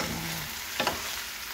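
Homemade beef steak (bistek) sizzles steadily in a pan, a broad hiss with a couple of short scraping stirs midway, close and alone.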